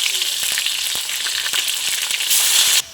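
Sliced onion frying in hot oil with cardamom, cinnamon pieces and torn bay leaf gives a loud, dense, continuous sizzle close up, briefly intensifying near the end before it drops off.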